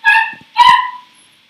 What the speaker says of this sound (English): He's barking because someone is at the door.